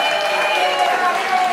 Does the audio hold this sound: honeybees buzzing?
no